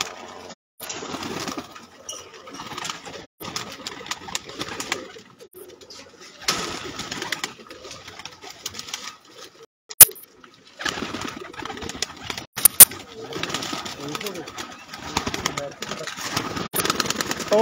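Pigeons coo on a rooftop among a flock, with soft intermittent calls and occasional wing flaps heard beneath ongoing conversation between men nearby.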